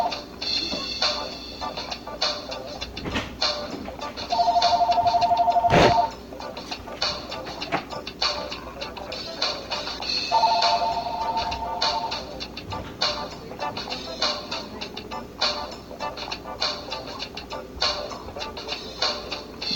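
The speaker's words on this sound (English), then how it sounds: "freaking phone was ringing" A phone rings twice in two short, loud electronic trill bursts several seconds apart, over steady background noise from a robot battle game.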